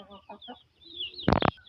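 Trained roosters and hens cluck softly while eating, a few short close clucks followed by a sharper louder burst of two quick calls.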